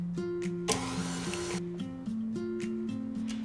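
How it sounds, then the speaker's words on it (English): Electric stand mixer beating ricotta, butter and lemon zest, a steady tonal motor whine that shifts pitch in steps, with a brief burst of rougher noise in the middle, close and with no talking. "We're going to turn our mixer back on and let it run again for about 30 seconds"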